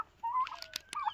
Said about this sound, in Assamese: ইয়াৰ ভিতৰত আছে টাৰ্কি, তাৰপিছত আছে গিনি ফ্ল' আৰু আছে কড়কনাথ